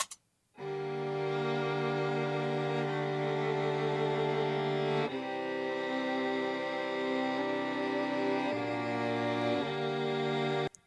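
Sustained bowed strings from a string duet in a song swell in after a brief silence and hold long layered chords that shift a few times, full and steady, with no voices.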